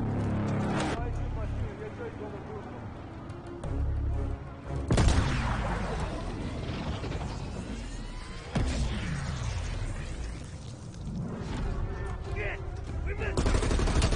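Gunshots in Black Ops Cold War: heavy bursts of automatic fire and a few sharp, loud single reports punctuate a busy combat soundscape, with voices talking throughout.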